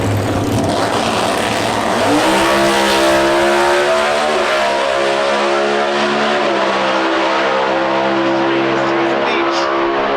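Two Cobra Jet drag cars race in the Factory Stock Showdown final at the NHRA Route 66 Nationals in Chicago, a loud steady engine roar with rising revs that fills the whole stretch, under crowd and track noise.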